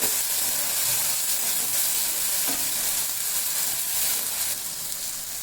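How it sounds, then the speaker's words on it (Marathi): Garlic and tomato roast in a hot pan with a steady, close hiss of frying and faint stirring underneath, even and unbroken throughout. "तर इथे आपल्याला सगळं चांगलं भाजून घ्यायचं आहे टॅमॅटो वगैरे"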